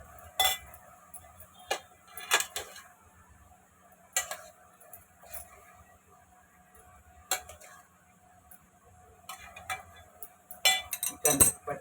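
Onion greens stir-fried in a pan, heard as sparse, sharp metallic clinks and scrapes of a spatula against the pan over a quiet background, spaced irregularly and clustering toward the end.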